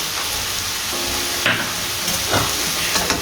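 Boneless chicken handi with yogurt sizzles in a pan while being stirred, with a steady hiss and frying crackle broken by a few sharp scrapes of the spoon against the pan.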